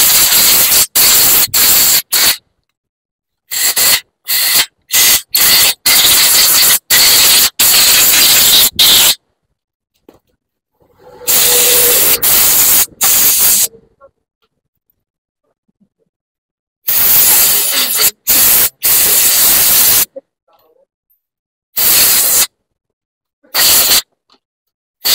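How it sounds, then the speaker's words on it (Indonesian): Compressed air sprays in repeated loud hissing blasts, drying the passages of a Suzuki Smash motorcycle carburetor, with short puffs and longer bursts separated by silent gaps. "Ini kita semprot-semprot dulu pakai angin biar lubang-lubangnya benar-benar kering ya."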